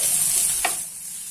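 Ginger and spices stirred in a pan over a low gas flame for aloo patties, a steady soft sizzle with one brief scrape of the spoon midway.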